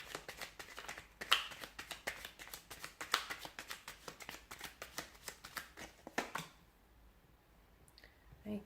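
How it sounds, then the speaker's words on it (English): Tarot cards being shuffled by hand, a series of sharp riffling bursts and taps close up, repeating roughly every second, then settling into near quiet. "let's give the cards a shuffle"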